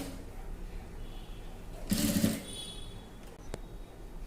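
A sewing machine stitches lace onto a dress neckline in a single short burst of close, whirring running, with quiet pauses before and after.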